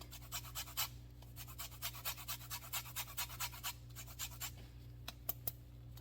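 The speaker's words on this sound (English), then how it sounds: "Trying to get as much of the zest as I can." Citrus peel being zested on a metal grater in a home kitchen, a rapid series of short dry rasping strokes, close and fairly quiet over a low steady hum, no talk.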